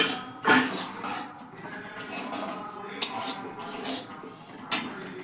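Metal spatula scraping and clinking in a karahi as butter is stirred over a low gas flame, with irregular knocks and scrapes at moderate loudness.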